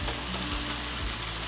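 Onions browning in a pan over medium heat for sautéed spinach hiss and crackle steadily up close, with a brief stirring rustle and no voices.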